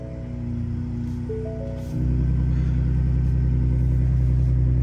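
A 2021 Ford Raptor pickup truck started by push button, its exhaust settling into a deep, steady idle rumble that turns louder and fuller partway through and then holds evenly.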